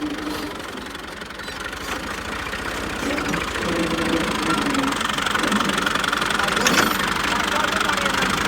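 A tractor engine idles steadily in an open field where soil beds are being prepared, its low rumble continuous and growing slightly louder, with people talking over it.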